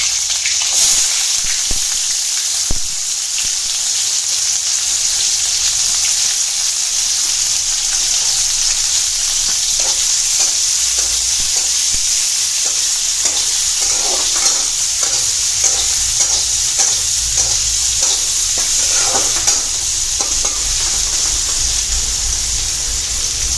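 Onions sizzle steadily in a hot pan with cumin seeds, bay leaf and green chillies, a loud continuous frying hiss with occasional stirring clicks and scrapes.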